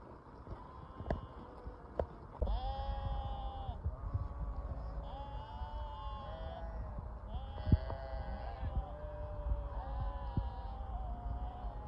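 Sheep in a flock migrating with a shepherd caravan toward mountain summer pastures bleat repeatedly, several overlapping calls rising and falling over low rumbling movement, moderately near and fairly loud.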